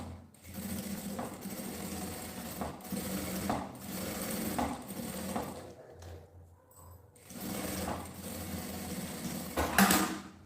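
Sewing machine stitching fabric for a luxury toiletry bag, running in short bursts with brief pauses, fairly close and steady.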